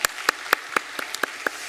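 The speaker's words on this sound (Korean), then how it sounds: "우리 박수로 환영하겠습니다" At a Sunday church worship service, the congregation claps to welcome a newly registered family. About eight crisp, evenly spaced claps come in a quick steady rhythm, with no talk.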